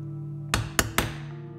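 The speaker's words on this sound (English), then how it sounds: "I'm going to take this little hammer right here" Three quick, sharp taps from a small hammer on a wall during a studio renovation, roughly evenly spaced, each with a short ringing decay over a low hum.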